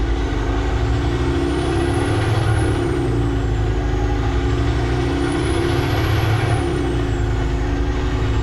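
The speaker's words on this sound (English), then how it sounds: "no trucks are allowed on this road" A truck drives along a rural road past cornfields: a loud, constant engine rumble with a tonal whine that slowly rises and falls twice.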